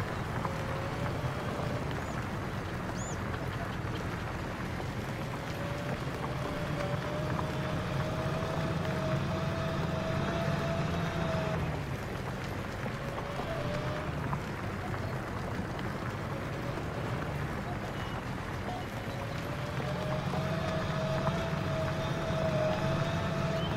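A steady low engine drone from an 1100-horsepower tractor in a farming video game runs unbroken throughout, with a faint rising whine on top and no talk.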